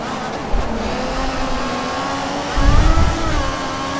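Formula 1 race car engine in the F1 2014 racing game holds a steady high-pitched whine down a straight, with a louder low rumble surging briefly near the end.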